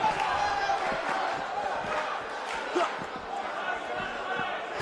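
Arena crowd noise in the wrestling video game WWE 2K19 forms a dense, steady roar of cheering and chatter, with scattered louder shouts and thumps throughout.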